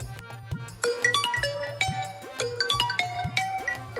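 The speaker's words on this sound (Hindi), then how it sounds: "ओए सुनो, मोबाइल की घंटी फिर बज रही है।" A mobile phone ringtone plays a repeating melodic pattern of bright electronic tones, looping steadily and clearly with no talking.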